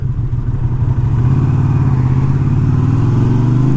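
A small-engined touring motorcycle on a test ride gives a steady, loud engine drone with a faint rise in pitch, running continuously and close by with no talk.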